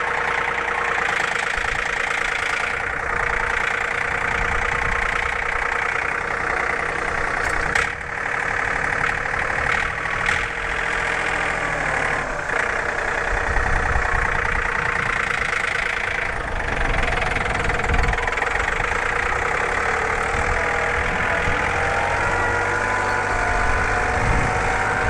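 A loud, steady tractor engine runs continuously at close range, a constant droning rumble with no pauses.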